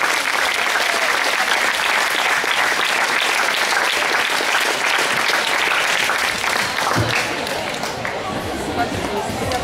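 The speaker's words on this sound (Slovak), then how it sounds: "Veľký potlesk" Loud, sustained applause from a crowd fills the whole stretch, steady and dense before easing slightly near the end, celebrating a youth team's sixth-place finish at a Slovak national championship tournament.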